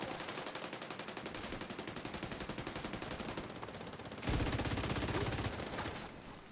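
Rapid automatic gunfire in the video game The Division 2 rattles on without a break, with dense overlapping bursts that grow louder and heavier partway through, and no voices.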